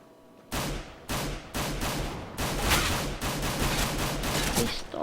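Dense video-game gunfire from a rifle and a pistol, loud and continuous, with sharp shots overlapping in rapid bursts for several seconds.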